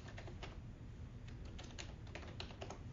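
Fingers type on a computer keyboard in a quick, irregular run of soft key clicks, faint and close over a low background hum.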